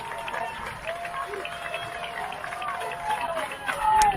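Crowd noise at a high school varsity football game between Sioux Falls O'Gorman and Tea Area, with fans making noise for O'Gorman; a steady roar of cheering and clapping stays fairly distant, swelling louder near the end, with announcer-like talk mixed in.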